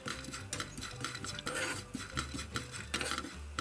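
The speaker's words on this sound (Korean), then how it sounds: "프라이팬에 아몬드를 한번 볶아서 준비해줍니다." Almonds toast in a frying pan while being stirred, giving soft repeated scrapes and clinks of the utensil against the pan. Quiet, close rattling and light sizzling run throughout.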